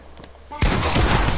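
Sudden loud burst of gunfire in a PS4 video game, a dense noisy blast that starts abruptly and sustains through the rest, preceded by a brief quieter lead-in.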